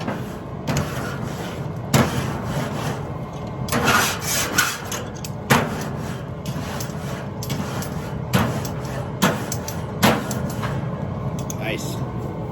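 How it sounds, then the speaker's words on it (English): Scrubbing a grill grate clean before grilling sockeye salmon and shrimp: close, rasping scrapes in irregular bursts, with sharper strokes every few seconds against steady outdoor background noise. "Don't even need to clean my grate. Oh, actually I do."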